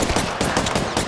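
Rapid bursts of automatic gunfire in the video game Apex Legends crack out in a loud, continuous stream of closely spaced shots lasting about a second.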